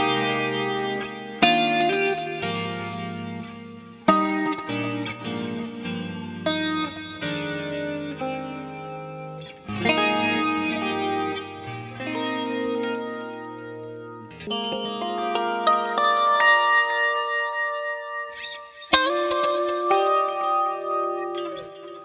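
Clean electric guitar through a preset with a compressor used as a boost, playing chords and arpeggiated phrases with chorus shimmer and echo tails, moderately loud and alone, with sustained notes separated by short gaps.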